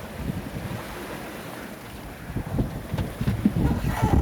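Wind of about 15 to 16 knots rushes past while sailing off Great Cumbrae in Scotland, a steady blustery roar with gusty buffeting on the microphone and surging water beneath.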